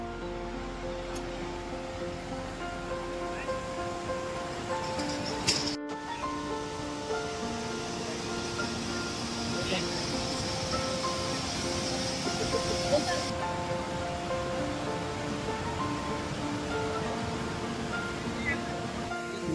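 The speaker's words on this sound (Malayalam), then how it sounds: "വെള്ളച്ചാട്ടം എന്താ കാണുന്നത്" Steady rushing water from a waterfall beside the Mughal Road in Kashmir, a broadband roar running continuously throughout, with a faint voice or two under it and a brief sharp knock near the middle.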